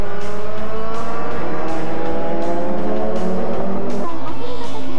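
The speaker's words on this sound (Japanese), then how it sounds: "土屋は4番手で最終コーナーを立ち上がっていくが、前を走るバイエルンがスピンコースアウト" Touring race cars, a Nissan Primera and a Honda Civic, screaming around the 1994 JTCC round at SUGO, loud continuous engine roar with rising revs and gear changes, a commentator talking over the noise.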